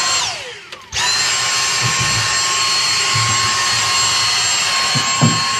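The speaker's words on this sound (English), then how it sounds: "Right, my wife's armed with a vacuum." A vacuum cleaner runs inside a Citroen 2CV during seat removal and restoration, starting abruptly after a brief clunk and then holding a loud, steady high-pitched whine with faint knocks underneath.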